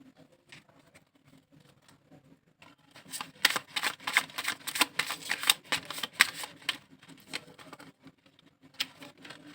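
Tarot cards being shuffled and drawn by hand, a soft flurry of rapid riffling and slapping card sounds that builds after a quiet start, close and fairly loud, with no talking.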